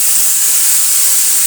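Spice paste hitting hot oil with fried onions in a pan: a loud, continuous, even sizzle, close to the mic, with no voices.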